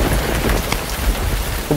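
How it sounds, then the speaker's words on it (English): Heavy rain pours down steadily in a broadband wash, with low rumbling suggestive of thunder beneath the downpour; no voices are heard. "So we're going to be having some downpours later in this afternoon."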